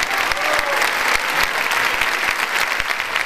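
Audience applause at the Mar del Plata film festival closing ceremony, dense loud clapping from a large crowd, sustained and even throughout with a faint murmur of voices beneath.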